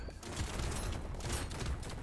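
Shotgun fire in the arena game Brotato, a rapid, continuous barrage of overlapping shots from a wide-spread build, dense and steady at moderate loudness, with no speech.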